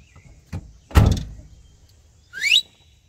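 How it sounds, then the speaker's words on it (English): The door of a 1987 Ford Econoline 350 van swings and thuds shut with one loud, close slam, followed by a brief rising metallic squeal, then quiet. "let me shut this door so I can see what's going on here."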